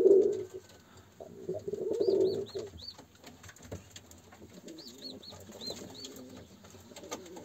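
Pigeons coo softly in short repeated phrases inside a flight loft, with rustling and a few thumps around them.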